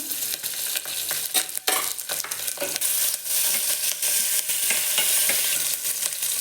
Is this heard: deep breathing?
no